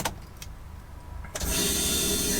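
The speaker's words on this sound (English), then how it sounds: "It wants to start, it's ticking, it's running, but it's as if like it's not getting the fuel." A 700 bhp Nissan Skyline R33 engine turns over and catches briefly, apparently starved of fuel, then a steady loud mechanical roar takes over after a quieter ticking idle; no voices.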